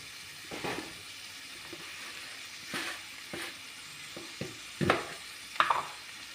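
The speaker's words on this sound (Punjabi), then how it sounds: "ਭਿੰਡੀਆਂ ਨੂੰ ਵੀ ਚੰਗੀ ਤਰ੍ਹਾਂ ਆਪਾਂ ਵਿੱਚ ਮਿਕਸ ਕਰ ਦਾਂਗੇ" Okra being stirred into frying bitter gourd in a pan for a mixed vegetable dish, with soft sizzling and several scraping stir strokes at uneven intervals, close and moderately quiet, no talking.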